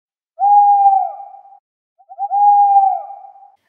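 Two long hoots from an owl, each smooth, sustained call lasting about a second with a brief gap between them, clear and fairly close in quiet surroundings with no talking.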